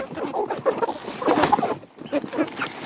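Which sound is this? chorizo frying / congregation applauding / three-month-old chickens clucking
three-month-old chickens clucking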